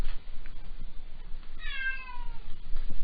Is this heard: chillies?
no